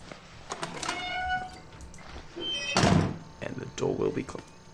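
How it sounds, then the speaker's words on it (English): A door in the horror video game Outlast thuds shut with a single loud slam, surrounded by scattered game noises and a person talking. "And the door will be closed."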